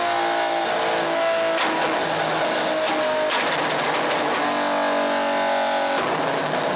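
A car with a VQ37VHR engine revs loudly and close, its exhaust note rising and falling through several throttle blips and pitch sweeps with no talking.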